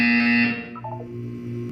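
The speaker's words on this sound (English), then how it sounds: "When you hear the buzzer, look down at the floor." Buzzer in the Portal 2 video game, a loud harsh electronic tone that sounds for about half a second, then drops into a quieter droning hum.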